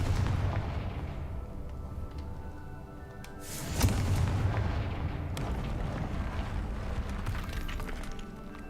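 A Confringo fire spell explodes in the Hogwarts Legacy video game, a sudden booming blast with crackling debris around the four-second mark, rising out of a steady rumbling game background.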